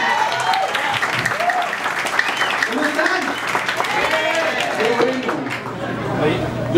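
An audience claps at an inauguration celebration for a Caja Popular, with steady crowd applause throughout and voices and shouts riding over the clapping.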